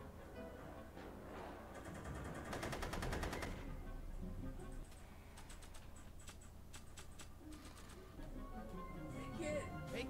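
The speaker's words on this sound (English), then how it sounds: "I'm finding it difficult to concentrate with all the bullets flying around my head" Bursts of rapid machine-gun fire from Telltale's Back to the Future video game, several dense volleys separated by short pauses, with a faint background bed beneath.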